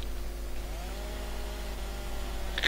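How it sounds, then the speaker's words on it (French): A steady chainsaw cutting straw in Farming Simulator, a low, constant hum and a rising buzzing whine, heard alone and fairly loud. "Je tronçonne la paille."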